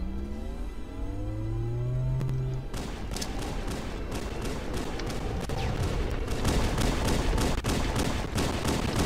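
Rapid bursts of gunshots in a shooter video game, a loud, fast string of repeated cracks that starts abruptly after a rising synthetic tone and keeps firing in quick rhythm to the end.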